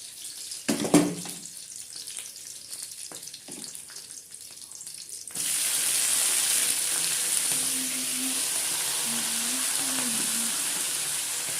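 A few clatters and clinks, then a sudden loud, sustained sizzle as washed spinach hits hot tempering oil and keeps frying steadily.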